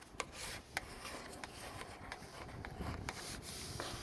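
A small squeegee rubs and scrapes across a vinyl decal on a Jeep Wrangler JK, with soft repeated strokes and a few sharp clicks, close and fairly quiet.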